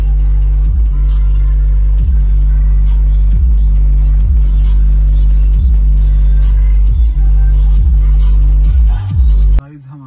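A JBL subwoofer inside a Maruti Baleno car pounds out loud, deep bass in a repeating rhythmic beat, booming steadily before cutting off abruptly near the end.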